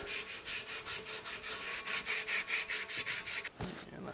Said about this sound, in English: we're going to come in here and scrub it a little bit. See if we can get some more of that rust off of there.